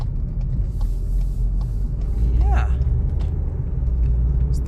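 A 2022 VW Polo R-Line with a 1.0 TSI 85 kW engine and DSG gearbox driving in sport mode, giving a steady, loud low engine and road drone from inside the cabin, with a brief spoken word.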